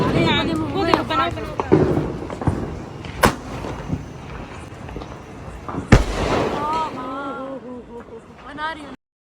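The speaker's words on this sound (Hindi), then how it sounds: "यहाँ पर थोड़े से भैया ने पटाखे छुटाए थे" Firecrackers and fireworks going off outdoors at a Karva Chauth night celebration, with a few sharp loud bangs standing out amid a busy mix of chatter and voices, including children, throughout.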